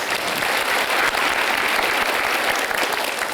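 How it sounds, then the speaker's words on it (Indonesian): TV studio audience applauding, a dense, steady wash of clapping from many hands, loud and close, lasting the whole moment with no talk over it. "Iya, kita berikan aplaus"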